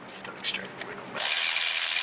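Stud extractor on a tool removing an exhaust manifold stud from a Ford F-150: faint scraping and clicks, then an abrupt loud steady whir of a power tool running continuously.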